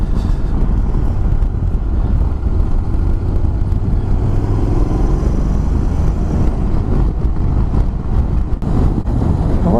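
A 2024 Honda NC750X DCT motorcycle ridden through a corner, its engine a steady low drone mixed with heavy wind rush at the microphone throughout.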